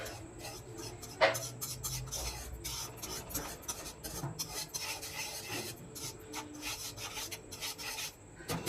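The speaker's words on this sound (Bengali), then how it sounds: "তো দেখুন এইভাবে এবার গুটিয়ে নিচ্ছি ছেঁচকি দিয়ে।" A spatula scrapes and stirs powdered-milk chhana around a pan, giving a steady gritty rasping close to the ear that continues without a break and has no talk over it.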